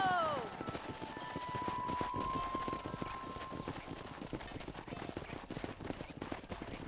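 Horse hooves clip-clop at a run in the Western video game Red Dead Redemption, a steady rapid rhythm carrying through the whole stretch while game dialogue and music play over it.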